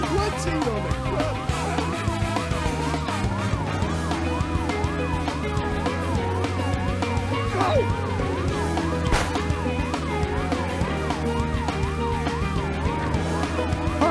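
A police car siren in the SpongeBob SquarePants: The Patrick Star Game video game, wailing loudly and continuously up and down over dense game music and effects throughout.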